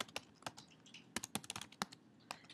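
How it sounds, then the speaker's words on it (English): Quick, irregular bursts of keystrokes on a computer keyboard as an answer is typed, close and crisp with short pauses between clusters, no voice. "and type my answer out down here."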